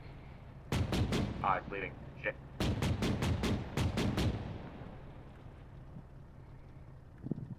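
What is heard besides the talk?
gunfire from a video game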